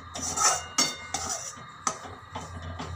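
Wheat flour roasting in a pan while it is stirred, heard as metal spoon scrapes and clinks against the pan, several sharp taps and scraping strokes at an uneven rhythm, close and fairly loud.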